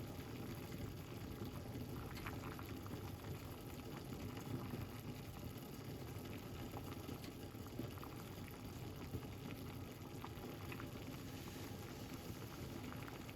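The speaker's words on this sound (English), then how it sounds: "So once you make it boil for a bit, then you're gonna make it simmer." Parsley and lemon tea boils in a pot, giving a steady, dense bubbling roil that holds at an even level throughout with no voices.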